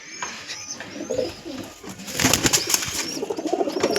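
A pigeon coos close by in a series of soft, throaty calls, growing fuller and more insistent toward the end, with a faint rustle of movement alongside.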